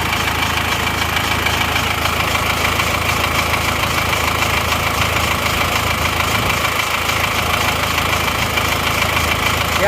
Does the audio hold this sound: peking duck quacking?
no